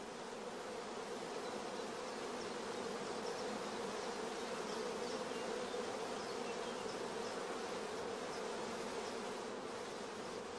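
Honey bees crowd on a queen rearing frame, producing a dense, continuous buzzing hum that stays close and steady throughout, with no voices.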